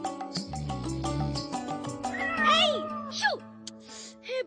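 A cartoon cat meows several times in a row, rising and falling cries close by, following a stretch of someone speaking in an animated domestic scene.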